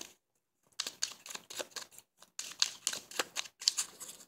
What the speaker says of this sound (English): No activity other than me shuffling the cards.